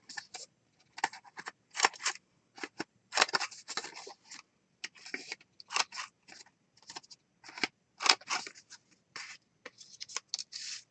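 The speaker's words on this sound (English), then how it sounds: "I think I want to round the corners of the cards." Scissors cut round the corners of paper cards for a mixed media project: many short, crisp snips in irregular clusters, close and fairly quiet, with brief pauses between cuts and no talking.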